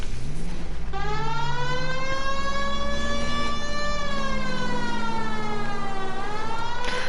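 A police car siren in the video game L.A. Noire wails loud and steady, rising and falling in long sweeping tones over a low engine rumble for the whole stretch.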